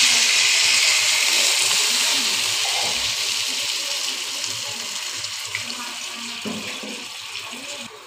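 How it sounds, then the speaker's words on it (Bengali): Water poured steadily into a pan of spiced fish cooking on the stove, a continuous hissing splash that slowly tapers off over several seconds. "জল দিয়ে দেব।"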